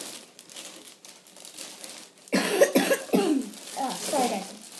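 A few close, harsh coughs burst out in quick succession after a quieter stretch of muffled rustling.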